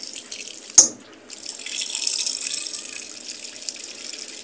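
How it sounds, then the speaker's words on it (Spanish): Water pours steadily into a Whirlpool semi-digital top-load washing machine after a short sharp knock, a continuous close rushing hiss with no voices. "Intentó lavar y volvió a echar más agua."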